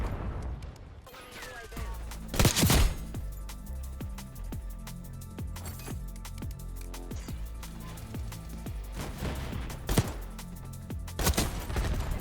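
Gunfire in Call of Duty on the Nuketown map, rapid bursts of automatic fire and several sharp loud shots over steady game noise, with a voice talking now and then.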